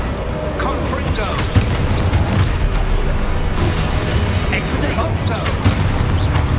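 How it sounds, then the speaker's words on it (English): Fiery Confringo spell blasts from the Hogwarts Legacy video game erupt in a dense, loud stream of booms and crackles, layered with other spell effects and game noise. "Confringo."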